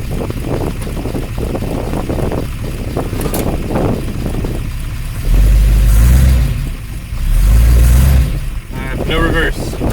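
A 1953 Oldsmobile Rocket Super 88 barn-find car with gear trouble drives along, its engine rumbling and wind noise swelling in two loud surges while someone talks over it.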